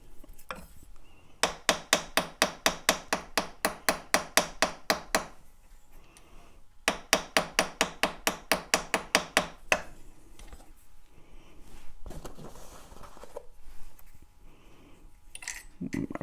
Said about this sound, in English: pull it out and hammer it just a little bit to make sure that it's flat